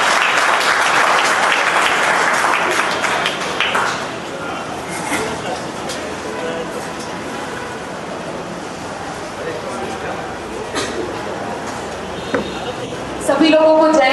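A crowd at a social justice rally backing the UGC Act 2026 applauds loudly and steadily for speaker Priyanka Patil, dense clapping that thins out after a few seconds and then swells again near the end.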